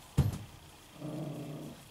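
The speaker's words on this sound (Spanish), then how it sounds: "Me llora mi perra porque quiere upa." A female dog gives a short, sharp whining yelp, then after a pause a quiet, low, sustained growl, close by with no talking.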